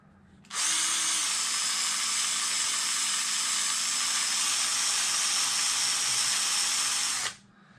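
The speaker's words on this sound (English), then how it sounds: "Put the pin in a drill." A power drill spins a metal pin for polishing with Never Dull wadding, a loud steady high whine that starts abruptly, holds evenly for about seven seconds, then cuts off, alone without talk.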